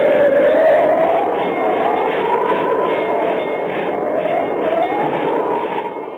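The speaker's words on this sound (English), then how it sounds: "advancing by train toward the perilous pass at Medicine Bow" A steam train sound effect in a live radio stage production, advancing through mountains toward the pass at Medicine Bow, with a loud continuous rolling rumble and wavering whistle-like tones rising and falling throughout.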